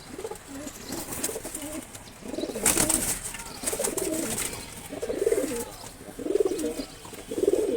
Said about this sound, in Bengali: একটু কবুতরটা ভিডিও করে রাখি।